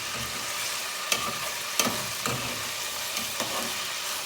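Chopped chicken fries in a pan for a minced chicken stew, a steady soft sizzle running throughout with a few sharp clinks and scrapes of stirring on top, close and with no talk.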